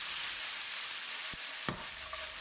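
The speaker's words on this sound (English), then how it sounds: "add the okra and toss it in the oil for a few minutes" Okra sizzles steadily in hot oil for a shrimp curry, a continuous close frying hiss with a couple of brief stirring clinks and scrapes partway through, no voices.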